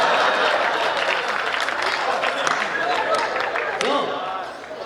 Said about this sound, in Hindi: चलिए थोड़ा सा और तालियां बजा दो जितने लोग हो